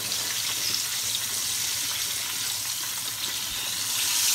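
Fish frying in a pan, a constant loud hiss and crackle of hot oil sizzling close up, steady throughout with no talk.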